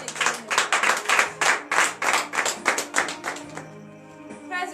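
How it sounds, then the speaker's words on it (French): A church congregation at a Saturday morning prayer service in Benin claps in a strong, even rhythm, about three claps a second, close and loud, before the clapping fades out near the end. "Donnez de vive acclamation à l'Éternel."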